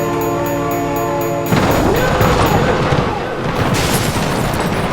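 A train slams into a vehicle in the BeamNG driving simulator, a sudden loud crash bursting in after a steady tonal hum and giving way to sustained rumbling and grinding debris that fills the rest of the moment.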